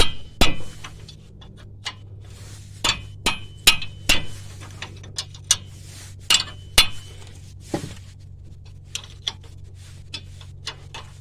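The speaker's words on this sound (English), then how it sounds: "I usually tap these with my hammer just to get them loose" Sharp metallic hammer taps on a brake caliper of a 2004 GMC/Chevy 1500 ring out irregularly, a dozen or more strikes, some in quick clusters, over a low background hum.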